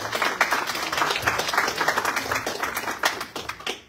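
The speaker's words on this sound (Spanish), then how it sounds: "Fuertes palmas para el doctor." Audience at a law congress in Peru applauding a speaker, a dense steady round of clapping from many hands that carries through to the end and then cuts off.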